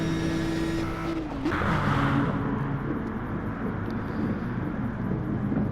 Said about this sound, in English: This is fantastic close racing between the two Renaults and Craig in the Nissan.